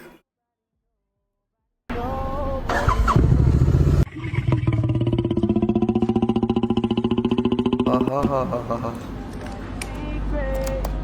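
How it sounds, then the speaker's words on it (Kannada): A motorcycle engine cold starts after a moment of silence, then idles and revs with a steady rising drone, loud and close. "when I cold start my bike"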